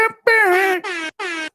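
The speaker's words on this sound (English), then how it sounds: "Air horn. Air horn." A loud blaring air horn sound effect blasts three times: one long honk followed by two shorter bursts, bright and brassy, alone without talk.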